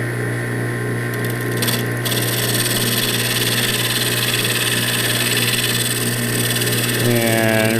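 A wood lathe with a vacuum chuck winds up toward about 1,000 rpm, a steady loud motor hum and whine with broadband rubbing and whirring, rising tones toward the end as the speed climbs.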